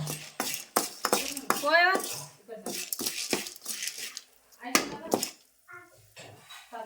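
Chillies being stirred in a pan over a medium gas flame, with repeated scraping and clinking of a utensil against the metal in short bursts, close by, under a voice talking.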